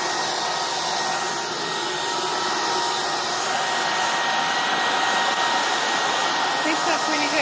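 Proscenic cordless vacuum cleaner running on mode 3, a loud, steady high-pitched motor whine and airflow hiss held unbroken from start to finish.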